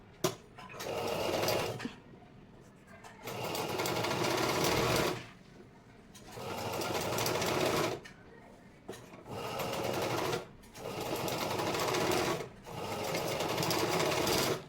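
A sewing machine stitches darts in a blouse. It runs in several sustained bursts of steady whirring and needle clatter, separated by brief pauses, close and loud.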